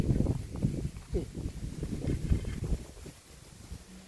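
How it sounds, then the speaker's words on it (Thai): Strong wind sweeps over open rice fields and buffets the microphone in a continuous low, rumbling roar with uneven gusts, while a person talks faintly underneath. "ลมพัดแรงมากลมลมระเนระนาดเลยนะคะ"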